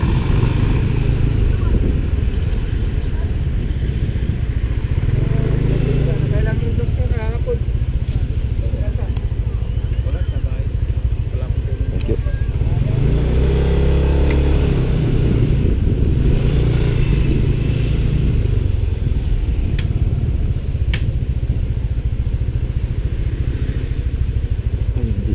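A small motorcycle is maneuvered into a tight parking spot, its engine idling and revving in short bursts with some clattering, while people talk over it.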